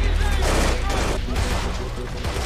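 Rapid gunfire at a firing-training range, a dense burst of shots running continuously and loud throughout, with a broad noisy wash and no clearly separated single reports.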